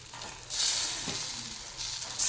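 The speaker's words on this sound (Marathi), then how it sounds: "याला थोडंसं बाजूनी तेल टाकून घेऊ आणि आता 5 मिनिट मध्यम आचेवर याला भाजून घेऊ" Garlic-leaf ayte, a sweet flatbread, roasts in oil in a pan over medium heat, giving a steady bright sizzle that swells and stays loud throughout, with no talk.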